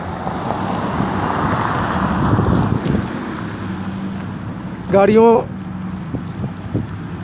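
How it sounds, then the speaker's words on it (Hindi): Cars and road traffic at a crossroads by a petrol pump in North Royalton, Cleveland, in the evening, a steady roadway rumble with wind buffeting the microphone, a passing engine swell and a short horn-like tone midway. "कारों का जमघट भी है सड़क पे"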